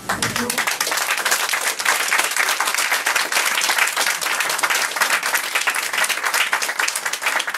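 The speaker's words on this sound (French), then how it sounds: "Denis Bigara, applaudissez-le très fort, mesdames et messieurs" An audience applauds loudly during a tribute to Joséphine Bacon, a dense, sustained roar of clapping that carries on without a break.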